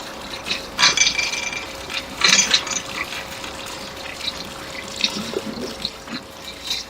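Water runs through hoses connected to a motor pump on a drilling rig, a steady rushing, gushing flow with irregular surges, fairly close and without talk.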